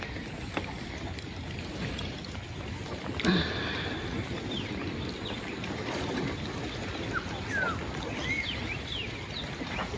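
A village boat is rowed on rainy-season water, faint paddle splashes and creaks against a soft wind and water background, with a brief knock and distant bird calls.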